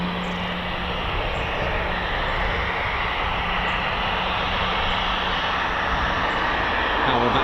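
An RAF training jet passes overhead at an airfield, a broad steady roar holding for several seconds and swelling slightly toward the end, with no voices over it.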